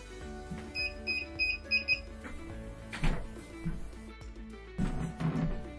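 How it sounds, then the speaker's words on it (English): A short series of high electronic beeps from a Hikvision TVI DVR alarm, four quick pairs in a row, faint in the background beneath clattering and handling noises. "Hopefully you all heard that beep as well in the background, which was the DVR performing its linkage action."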